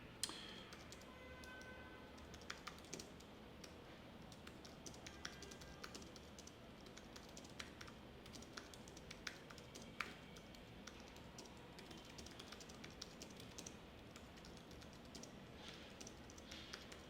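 A message is typed live on a computer keyboard, a long continuous stream of light, quick key clicks at low level, alone with no talk.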